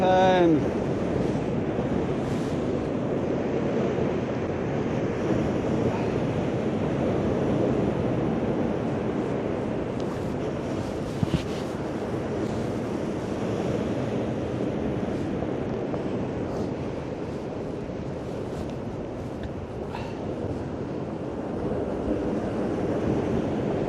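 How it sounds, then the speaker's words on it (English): Storm-driven surf breaks on Skegness beach while strong wind buffets the microphone, a loud, constant roar of waves and gusts throughout. "Force of nature. And here comes the surf now."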